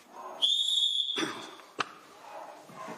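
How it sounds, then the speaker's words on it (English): A single sharp, shrill whistle blast rings out for under a second during a public meeting, followed by a dull thump and murmuring voices in a room. "if I hear one more whistle blow, I will suspend this meeting"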